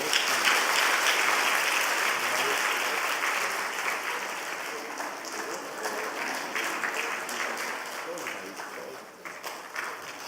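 A church congregation at a Wednesday worship service applauds a child receiving an award, a warm continuous patter of many hands clapping, moderately distant and steady before tapering slightly near the end.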